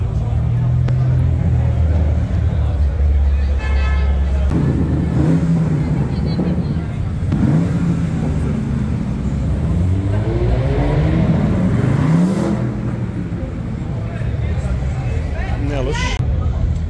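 A BMW 340i revs loudly inside a garage during a car meet. Its engine rises in a couple of sweeping climbs above a steady rumble, and people talk throughout.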